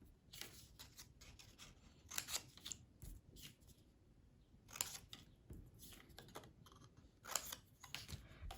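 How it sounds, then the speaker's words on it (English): Soft, close snips of scissors cut a slit into the base of a paper flower petal, with several quick crisp clicks scattered among faint rustling of the paper. "at the base of the petal, I'm going to cut a slit."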